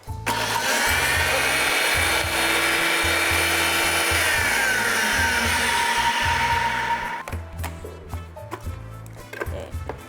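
Garlic being minced in a small electric food chopper, a loud steady motor whir with rhythmic pulsing thumps, then stopping into scattered clicks and rattles.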